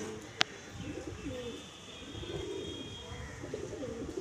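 A Phulshira pigeon coos softly in low, rolling phrases amid faint background noise, with a sharp click near the start.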